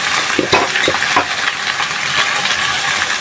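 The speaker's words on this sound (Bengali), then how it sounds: "কড়াই বেশি করে তেল দিয়ে দিচ্ছি ভর্তাটা ভেজে নিই" Mashed taki fish frying in plenty of oil in a wok, a loud, close sizzle with a few scraping stirs early on, then steady crackling.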